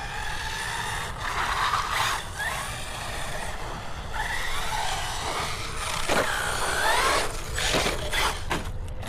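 An Arrma Typhon RC car runs around an outdoor track, its motor whining steadily with a few rising pitch sweeps as it accelerates, over continuous background rumble and no talking.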